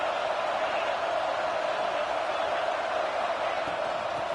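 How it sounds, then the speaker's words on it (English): A dense, steady stadium crowd roar in a college football video game, a continuous loud wash of noise without breaks. "Listen to this crowd just shaking the girders of this place"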